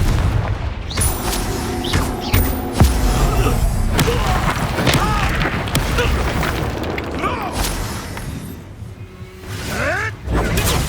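Repeated spell blasts from Repulsor and Confringo in the Hogwarts Legacy video game, loud booms, whooshes and thuds firing again and again over dense game noise.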